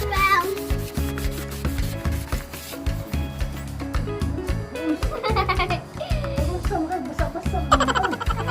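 A car headlight lens is wet-sanded by hand with 2000 grit sandpaper, giving a close, rhythmic rubbing scrape in repeated back-and-forth strokes over background music.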